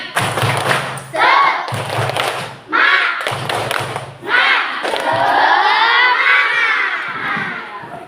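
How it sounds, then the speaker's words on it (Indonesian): Schoolchildren in a classroom doing a rhythmic spirit clap, loud bursts of shouted chanting and thumping claps in a patterned sequence, the whole group together, ending in a long sustained cheer. "tepuk semangat"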